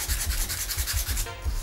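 Small piece of sandpaper rubbed back and forth over a diamond playing card to strip its paint, close and steady rhythmic scratching strokes with no talking.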